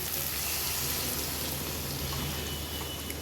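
Hot water is poured into a fish curry base of hot oil in a pan, setting off a loud, steady, hissing sizzle that fills the whole stretch without pause.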